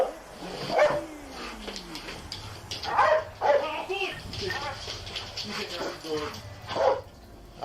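A police canine barks in short sharp bursts within played video footage, mixed with a siren-like sweep and commotion while people talk over it.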